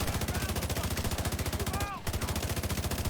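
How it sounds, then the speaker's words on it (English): Sustained MG5 machine gun fire from The Division 2 video game, a dense rapid-fire rattle of evenly spaced shots with a brief break near the end before the burst resumes, loud and close. "I put a load of bullets into him with my MG5"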